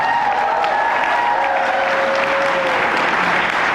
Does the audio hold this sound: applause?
yes